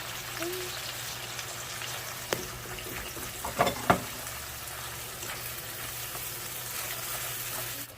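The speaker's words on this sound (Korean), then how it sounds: "면을 넣어줄게요." Noodles go into a pot during cooking over a steady background sizzle, with a couple of soft clunks and splashes midway as they drop in; the scene is otherwise quiet.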